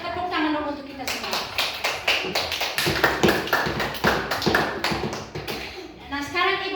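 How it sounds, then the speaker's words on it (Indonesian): Classroom of children clapping their hands in a series of sharp, rhythmic claps, close and loud, with a voice speaking at the start and end. "Tepuk tangan dulu untuk kita semua."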